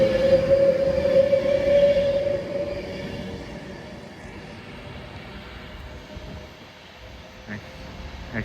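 A Class 390 train moves off at Nuneaton on the West Coast Main Line, its low rumble and a steady whining tone loud at first, then easing into a quieter, receding roar with a few faint knocks.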